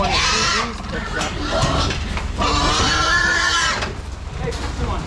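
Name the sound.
pigs oinking during hog loading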